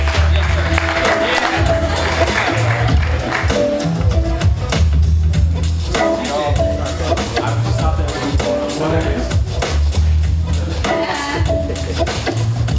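Applause and cheering from a poetry slam audience, steady and loud throughout with crowd noise and talking mixed in over background music.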